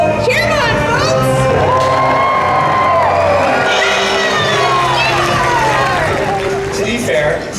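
An audience cheers and shouts at a Sea World show in San Diego, with children's excited voices and whoops forming a steady, loud crowd roar throughout.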